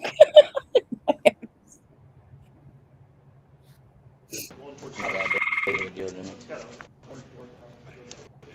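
Tree frog chirping in a half-second buzzy trill, preceded and followed by people talking and quiet stretches.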